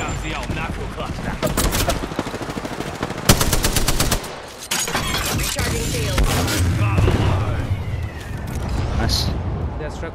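Dense bursts of rapid automatic gunfire and heavy booms fill a shooter video game featuring the character Fuse. The shots are loud and close, with brief lulls, and voices talk over the firing.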